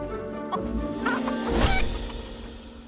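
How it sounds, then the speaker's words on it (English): Chickens in the video game Fable cluck and squawk in short bursts as they are kicked around, with a sharper flurry near the end over a low background. "It's just kicking chickens around."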